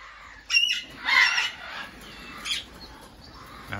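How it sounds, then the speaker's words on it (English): A cockatoo next door to an outdoor aviary gives a few loud harsh squawks in short bursts, fairly close, with no talking over them. "And the noise is from a cockatoo."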